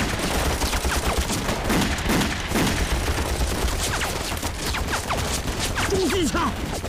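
A heavy machine gun in a Chinese anti-Japanese war film hammers out sustained rapid fire, loud and dense throughout, with shouting voices mixed into the clamor.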